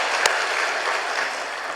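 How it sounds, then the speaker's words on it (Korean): A church congregation gives steady, even applause to encourage members who are fasting, a broad wash of many hands clapping at once, fairly distant and unbroken for under two seconds. "오늘 이렇게 무더운데 금식하는 분들 우리 박수로 한번 격려하십시다."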